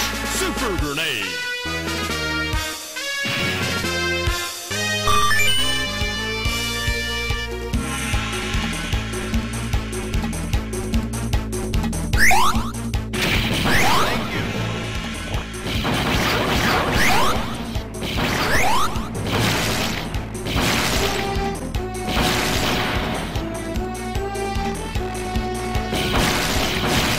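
Super grenade explosions in a video game, a dense run of whooshes, crashes and booming blasts over game music and effects, loud and repeated throughout.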